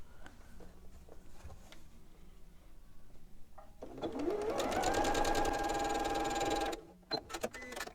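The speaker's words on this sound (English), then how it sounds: "now I'm going to sew the leaf to this side of the stem" A sewing machine stitches a fabric leaf onto a stem for a quilted springtime table runner, starting up after a quiet stretch, running in a loud steady burst for a few seconds, then stopping with a few small clicks.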